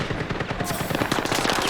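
Rapid automatic gunfire in the video game Battlefield 6, a dense burst of close shots continuing throughout.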